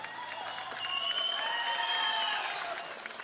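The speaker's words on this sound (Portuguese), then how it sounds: "Uma salva de palmas especial a Davi Moraes" A crowd at a Bebeto show claps and cheers steadily throughout, with a bright, sustained tone ringing over the applause.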